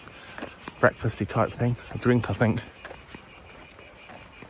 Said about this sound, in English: Sound of cicadas.